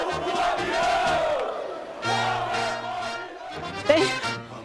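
Football supporters gathered outside a team hotel chant in unison, a loud rhythmic crowd of voices in repeated phrases, with a sharp shout near the end.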